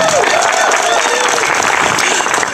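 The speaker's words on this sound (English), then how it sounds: "A round of applause for all of the wonderful Democrats here today" Audience applause at a Monterey County Democratic Party unity celebration, a continuous loud wash of clapping with voices and cheers mixed in, filling the whole moment.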